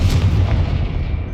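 A Confringo fire spell in Hogwarts Legacy detonates as a single loud, deep explosive boom that rolls and fades away over a second or so.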